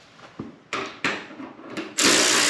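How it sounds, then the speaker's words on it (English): A power tool works a bolt off a Yamaha FZ motorcycle in several short, close bursts that grow longer, ending in a sustained loud whir. "And now we will come up here and remove this bolt here."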